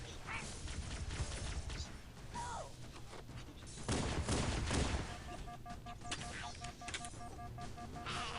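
Rapid weapon fire against shielded Jackals in Halo: Combat Evolved, on the Silent Cartographer level, with dense overlapping bursts and mechanical clicks. A loud surge comes midway, followed by a switch to pistol shots.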